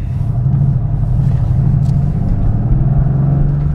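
A Mercedes-AMG GT S engine is heard from inside while driving in Sport Plus mode, a steady, loud low rumble with a deep tonal drone and slight swells under the constant cabin noise.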